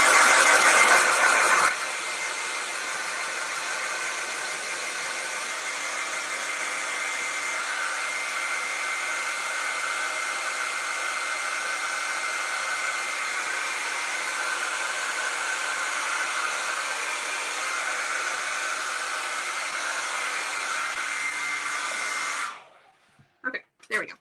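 A blow dryer runs continuously at a steady, loud hiss for over twenty seconds, then switches off with a few clicks and bumps.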